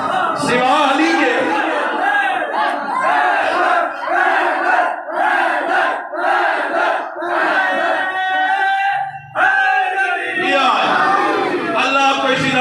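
A large crowd at a Shia religious gathering for Imam Musa Kazim shouts a devotional slogan in unison, loud and close, in repeated rhythmic surges that fill the whole span, with a short dip near the end before the chanting swells again.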